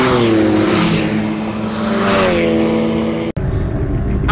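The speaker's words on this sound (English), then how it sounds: "The car is working. We're out at a track day at Snetterton." Car lapping a track day at Snetterton circuit, its engine droning loud and steady with rising and falling harmonics as it accelerates and shifts, then a sharp cut near the end before the engine note resumes.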